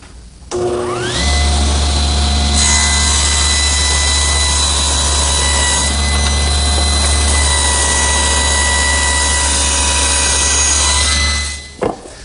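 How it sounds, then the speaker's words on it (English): A table saw rips a board for a butcher block along the rip fence: a loud, steady motor whine spins up, runs for about eleven seconds, then winds down, with no talk. "place it against the rip fence and make a pass through the saw"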